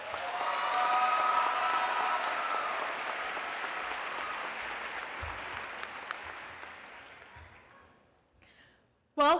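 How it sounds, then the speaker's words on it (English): Sustained audience applause at a university convocation ceremony, a dense crowd clapping loudly at first, then slowly thinning and fading toward the end, with a brief sharp sound closing it. "Please join me in giving her a great hand of applause"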